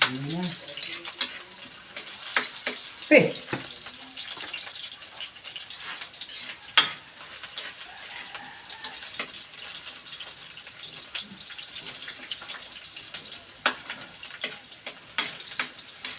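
Garlic and onion frying in a pan for a chicken dish in ketchup sauce: a quiet, continuous sizzle broken by scattered clicks and scraping stirs, with a couple of louder clatters of utensils.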